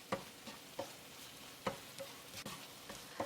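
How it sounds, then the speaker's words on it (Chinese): Ground beef and tomato ketchup being stir-fried in a pan, with a soft sizzle under repeated light scraping strokes of a spatula at an uneven rhythm, close and fairly quiet. "继续翻炒"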